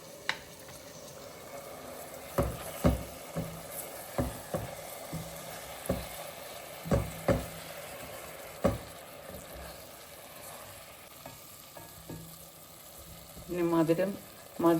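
Jaggery syrup being poured little by little into a banana dessert mixture and stirred in a pan, a soft sizzle broken by repeated spoon knocks and scrapes, with a brief bubbling burst near the end.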